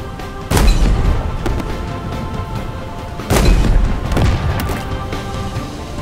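Gunfire in Halo Infinite: two heavy, booming shots a few seconds apart, each with a deep thump and rumbling tail over a steady background of game ambience, no talking.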